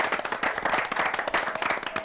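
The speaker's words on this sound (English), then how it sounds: "Let's have a round of applause" An audience at a 1989 academic quiz competition applauds, a dense burst of many hands clapping steadily for about two seconds.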